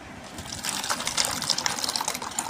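Blended watermelon, milk and sugar mixture is poured from a mixer jar into a container, a continuous liquid gush and splash that swells and fades over a couple of seconds at close range.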